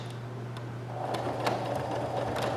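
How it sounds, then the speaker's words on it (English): Sewing machine stitching a sweatshirt pocket, a steady low mechanical hum with a quick rhythmic needle clatter that picks up after the first second and runs on evenly. "Do a small back stitch."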